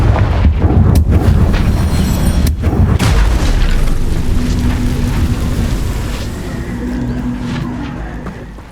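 Confringo fire curse from Hogwarts Legacy going off in a heavy, loud explosion, a few sharp impacts up front and then a long rumbling roar that slowly fades over several seconds.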